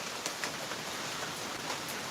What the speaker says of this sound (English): It's raining too, so that adds its own layer of music, right?